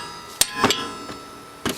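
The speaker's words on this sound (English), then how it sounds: "Gonna hammer it in for a little torque." A hammer strikes vice grips clamped on a tie rod of a 1995 Honda Civic: four sharp metallic blows at irregular spacing, close and fairly loud, with quiet gaps between them.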